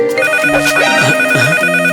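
A loud, close electronic ringtone plays a repeating melodic pattern, filling the whole moment.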